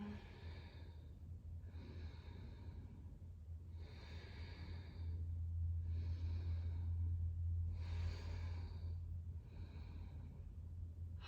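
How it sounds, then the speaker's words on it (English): Slow, rhythmic breathing during a seated chair yoga session: about six soft, airy breaths spaced evenly, quiet and close over a low steady hum. "Breathing."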